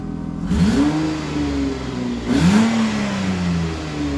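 A 2008 Kia Sportage engine revs up hard twice toward its 7,000 RPM redline, rising in pitch each time and holding a high, steady drone between pulls, loud and close.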